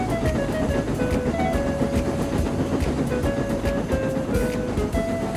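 A model railway train runs along its tracks with a continuous loud rumble and rhythmic clicking of wheels over rail joints, steady throughout with no speech.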